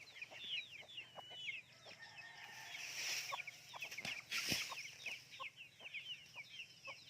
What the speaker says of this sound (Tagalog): Daghang mga manok dire guys.